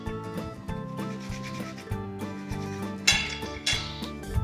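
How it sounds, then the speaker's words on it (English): Dry baked-doughnut ingredients with cinnamon and nutmeg are mixed in a bowl, giving a steady rubbing, scraping sound with occasional light clinks. "We're gonna mix that together."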